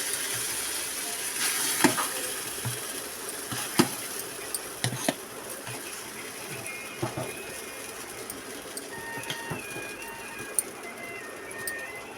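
Roti fries in well-heated oil with a steady sizzle, sprinkled with sharp pops and crackles throughout.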